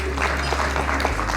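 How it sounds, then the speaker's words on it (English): An audience at a book launch gives a brief burst of applause, close and fairly loud clapping over roomy hall ambience. "a round of applause for him"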